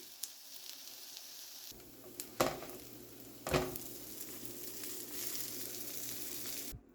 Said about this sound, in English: Then it says to brown the burger patties in a skillet on both sides